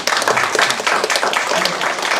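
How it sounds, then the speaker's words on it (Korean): Audience applause at a Korean township residents' general assembly, dense, close clapping from a room of people, continuous and even throughout. "축하의 박수 한번."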